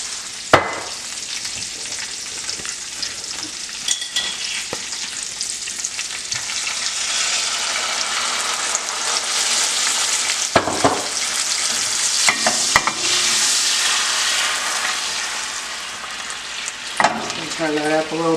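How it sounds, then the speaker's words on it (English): Salmon sizzling loudly in a hot pan while being stirred, with wine added on top; a dense, continuous frying hiss broken by several sharp utensil clicks and scrapes, close up and without talk. "I'm going to stir this up just a little bit, and then we can add the wine on top"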